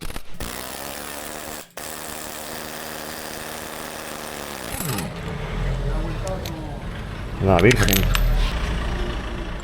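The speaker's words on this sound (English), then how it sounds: "Now we can remove the crankshaft pulley with the help of the impact gun." An impact gun rattles hard against the crankshaft pulley bolt of a Citroen Xsara Picasso 2.0 HDI in a workshop, a loud sustained buzzing hammer followed by metallic clinks and a final louder burst.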